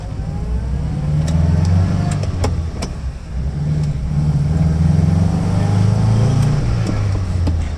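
A 1965 Nissan Cedric's engine pulls away and climbs through first gear on the road, a steady droning hum heard from inside the cabin with faint clicks over it.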